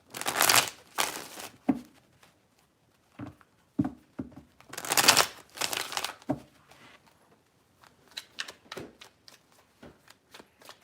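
Tarot cards shuffled by hand in quick riffling bursts, several loud crisp flurries separated by softer taps and pauses, close and alone without talk.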